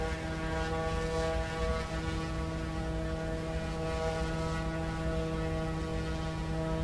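A steady propeller-aircraft engine drones inside Microsoft Flight Simulator 2024, a constant tonal hum with layered harmonics holding level throughout with no talking.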